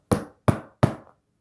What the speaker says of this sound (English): Then Tenceriko knocked on the door.